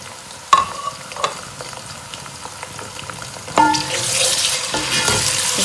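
Masala with tomatoes and chili fries in a pan while a spoon scrapes and stirs, giving a few sharp clinks before a loud, steady sizzle rises and continues to the end, with no talking.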